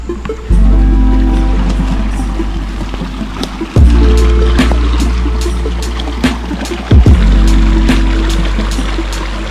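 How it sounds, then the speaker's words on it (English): A loud woodland creek rushes steadily nearby, a dense continuous wash of flowing water with a few soft bumps and knocks in the foreground. "You can hear how loud the creek is already."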